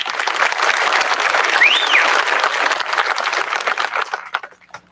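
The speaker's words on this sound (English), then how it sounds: "And one more award, round of applause for Emily." Applause from the crowd at an 8th-grade promotion ceremony for a student receiving a 2021 Math Award, dense and steady clapping that tapers off near the end.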